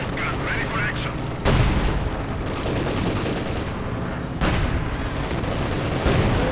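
In the Company of Heroes 2 game, a Panther, an H-35 and a T-34 trade tank cannon fire on ice, with heavy booming blasts and rumbling gunfire over a dense battle din.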